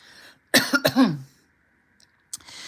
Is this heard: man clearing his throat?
yes